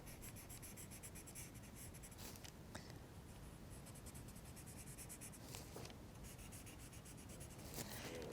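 A pencil shades and blends graphite on paper in quiet, close scratchy strokes, with rhythmic rubbing passes and short pauses between them.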